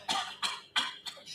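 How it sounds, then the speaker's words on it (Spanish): A man coughs four or five times in quick bursts, the first three loud and sharp, the last ones softer, close to the listener with no other sound. "y empiezo a toser"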